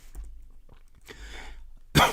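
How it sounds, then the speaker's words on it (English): Harsh, close coughs break out, a few rough hacks followed by a loud, forceful cough at the end. "I'm coughing over here"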